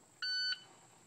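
A single electronic shot timer beep at a multi-gun shooting competition, steady and moderately loud for about a third of a second, standing alone over quiet background.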